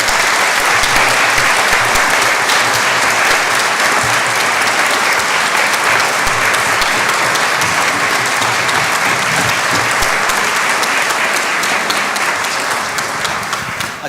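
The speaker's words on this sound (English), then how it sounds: "can we give the panel a huge round of applause?" A climate action conference audience gives the panel a big round of applause: dense, loud, sustained clapping from a full room that holds steady for about fourteen seconds before starting to fade.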